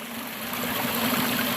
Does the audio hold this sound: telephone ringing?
no